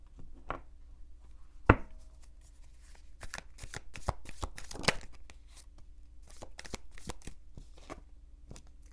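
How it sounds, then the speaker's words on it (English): Tarot cards are shuffled steadily for several seconds, a close, dry riffling and flicking with a few sharper snaps. "Let me just pull a few cards for this person's energy that you might be dealing with."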